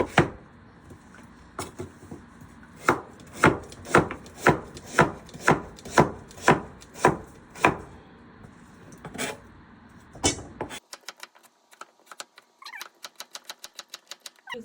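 A kitchen knife chops through blue crab on a board for crab stew, about a dozen sharp, evenly spaced thuds close by, then a run of faster, lighter taps and clicks.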